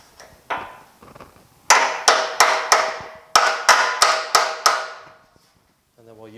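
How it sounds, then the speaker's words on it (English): A hammer drives a wedge into sheet metal on a 1950 Chevy truck, a sharp ringing blow or two, then a rhythmic run of about ten strikes, followed by a brief voice. "Drive this wedge in here."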